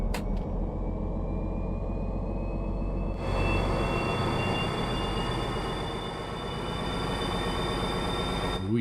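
A DB BR 218 diesel locomotive hauling a freight train in Train Sim World rumbles steadily with a deep, continuous low-end drone and rattling wagons, joined by a high whining tone that rises partway through.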